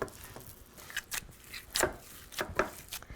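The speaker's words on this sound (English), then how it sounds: "we're gonna start to fold the bulgur wheat into the meat, and then we are going to knead it" Hands kneading fine bulgur wheat into raw meat for Lebanese kibbeh, producing soft, irregular squishing and slapping pats at close range, faint and sporadic, with no talking.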